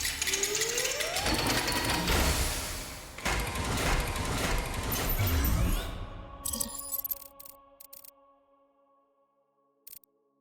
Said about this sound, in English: So I'm going to fire up the beacon.